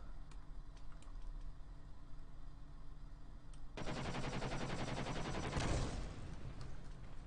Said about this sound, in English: But these 30mm cannons,